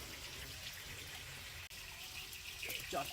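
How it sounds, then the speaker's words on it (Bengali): Water pours steadily in a quiet garden while watering plants, a soft continuous splashing and gushing that briefly drops out and grows a little louder toward the end. "আর আমি এখন বাগানে জল দিচ্ছি তাই জলের শব্দ পাওয়া যাচ্ছে"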